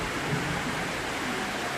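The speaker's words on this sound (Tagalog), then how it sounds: "Malakas yung ulan ngayon." Heavy rain pours down outside a house with open, unfinished window openings, a dense steady roar of broadband noise that holds without a break.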